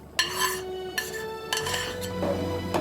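A spoon clinks and scrapes against a metal pot as sago payesh is stirred with cashews, raisins, pomegranate and almonds, giving several sharp knocks between softer scraping strokes, close by and with no talking.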